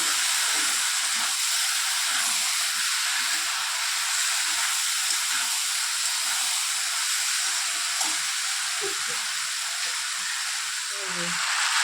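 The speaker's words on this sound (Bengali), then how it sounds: "তো এটাকে ভালো মতো কষিয়ে নিচ্ছি।" Curry sautéing in a pan at home for dinner, a loud, continuous close hiss and sizzle with faint scattered clinks underneath, steady throughout.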